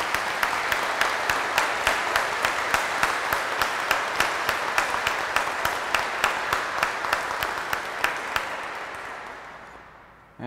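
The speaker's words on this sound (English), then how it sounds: "Let's please give them a round of applause." Congregation at a Mass of Thanksgiving giving the singers a round of applause, with loud sustained clapping and a few sharper individual claps standing out, tapering off near the end.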